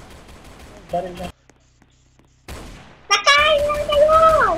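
Short bursts of Roblox Brookhaven RP gunfire crackle around brief chatter, then a lull, followed by loud game effects and excited voices.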